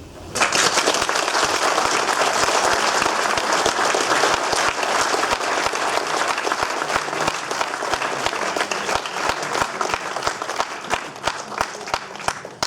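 Sustained, dense applause fills a hall after a lecture, an audience clapping steadily and loudly for over twelve seconds without pause.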